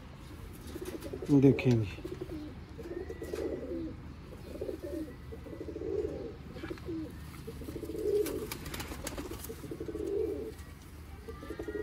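Pigeons cooing in repeated soft, low rounded phrases at a steady rhythm, close by, with someone speaking briefly in between.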